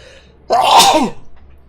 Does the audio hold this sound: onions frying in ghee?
no